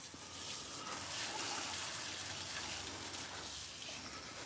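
Water spraying steadily over a Trail rider 570 ATV to rinse off dust, a continuous close hiss and gush with no break for the whole stretch.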